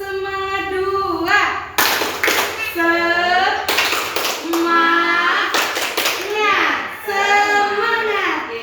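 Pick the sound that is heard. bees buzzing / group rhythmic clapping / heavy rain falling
group rhythmic clapping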